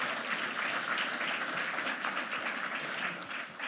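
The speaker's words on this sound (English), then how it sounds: "So give yourself a big round of applause." A crowd at an XR industry awards ceremony claps continuously, a broad even roar of applause held at a steady level from start to finish without any voices.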